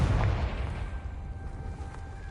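A Confringo blasting spell in Hogwarts Legacy goes off with a sharp booming burst that fades into a low rumbling tail, no talk.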